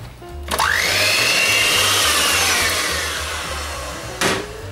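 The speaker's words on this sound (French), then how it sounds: "on va bien mélanger le tout et puis on va utiliser le batteur pour" An electric hand mixer beating a cheese and lemon zest mixture for an Italian semolina cake, whirring up sharply and holding a loud steady buzz before winding down, close by.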